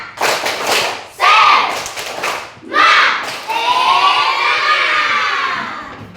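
A group of children shouting a rhythmic 'tepuk semangat' clapping chant during a classroom ice-breaking session, with loud call-and-response bursts, thumping claps and a sustained rising shout at the end.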